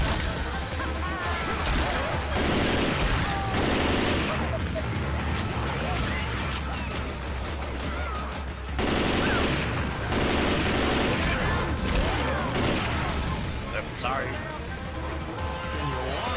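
Dense bursts of gunfire from Left 4 Dead 2, loud rapid volleys of shots crashing almost continuously across the whole stretch, with players talking over the shooting.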